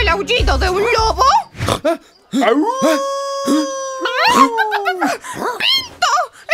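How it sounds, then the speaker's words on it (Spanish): A cartoon wolf's long, drawn-out howl rises and holds for a couple of seconds, framed by excited voices talking before and after. "¡Eso se parece mucho al aullido de un lobo!"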